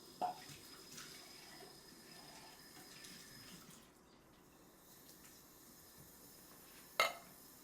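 Tap water runs steadily and faintly into a kitchen sink while raw chicken is rinsed, with a soft clatter near the start and a sharper clink of a dish or pan near the end.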